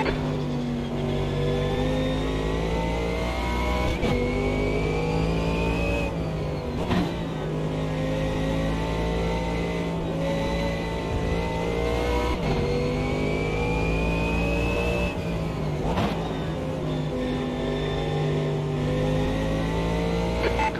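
A Mercedes AMG GT3 race car in Automobilista 2 on the Curvelo Long circuit drones loudly and continuously, its engine note climbing through gears with brief dips at each shift, close and steady throughout.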